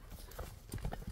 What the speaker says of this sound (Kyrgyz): Узат чап дегендерге узат чабып көрсөтүп берип атат Океанды